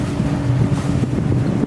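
A sailboat's engine runs steadily at sea in the eastern Bahamas, a continuous low drone mixed with heavy wind buffeting and water wash, loud and close with no talking.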